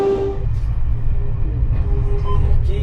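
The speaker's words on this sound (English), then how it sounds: "So there's the two locos at the back pushing." Two British Rail Class 44 diesel locomotives push a heritage train from the rear between Rowsley and Matlock, giving a loud, steady low engine rumble with a sustained tonal drone and light wheel and rail noise.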